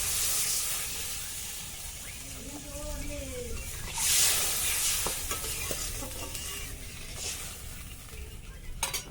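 Water hitting a hot frying pan in a village kitchen while cabbage fritters cook gives a steady broadband sizzle and hiss that swells briefly, with faint voices and stirring clinks underneath.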